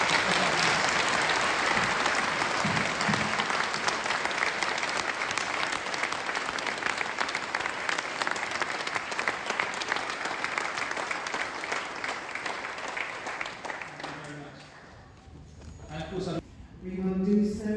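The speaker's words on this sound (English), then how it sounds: "can we give them a round of applause as well?" Sustained applause from an audience honouring the armed forces community at a veterans' event, loud and steady for about fourteen seconds before fading as a voice speaks.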